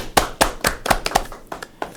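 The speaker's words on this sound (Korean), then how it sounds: "먼저 박수로 시작하겠습니다" A lecture-hall audience at a university department orientation claps briefly, with sharp, uneven hand claps that thin out over two seconds.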